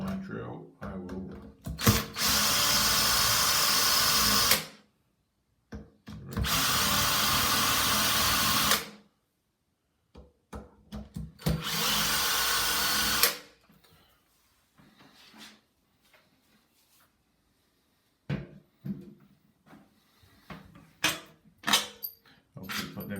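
A cordless power drill takes out the bolts of a Mira Discovery dual control shower valve, with three long steady whirring bursts separated by short gaps, followed by clicks and handling noises close by.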